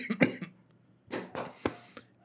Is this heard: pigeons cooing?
no